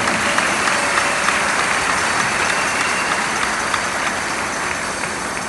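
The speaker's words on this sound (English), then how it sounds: "let us clap for him." Audience clapping at a church gathering attended by Governor Douye Diri, a loud, continuous wash of many hands with a steady, hissing texture throughout.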